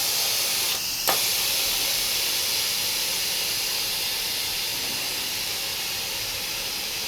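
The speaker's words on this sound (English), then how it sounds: "Now that it's done, let's go ahead and open up that vent" An Instant Pot pressure cooker releases steam from its vent in a loud, steady hiss that continues unbroken, with a brief clack from the valve near the start.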